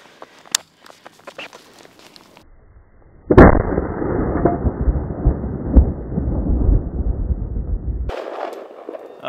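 A Zastava ZPAPM70 rifle fired outdoors in the snow: one loud blast after quiet handling noises, leaving a long rumbling echo across open ground for several seconds before it cuts off.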